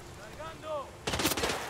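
Gunfire in a video game, a quick burst of loud cracks that cuts in abruptly after a short stretch of quieter tonal game sound.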